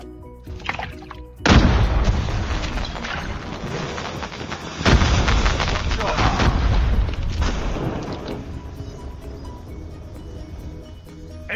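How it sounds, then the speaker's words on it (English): Grenade detonating in a first-person shooter video game, a heavy booming blast followed by a long rumbling roar with a second surge of blasts midway, loud and sustained before fading out. "Grenade out!"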